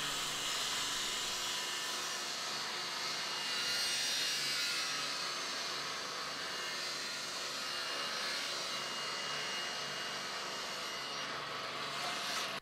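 Power saw ripping a 2x6 board down to a 4.5 inch width, a continuous whining, roaring cut that holds steady for the whole stretch, at moderate distance.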